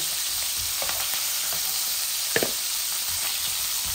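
Fish heads fry in hot oil with a steady, close, hissing sizzle throughout, broken by a few soft knocks and crackles around the middle, and no talking.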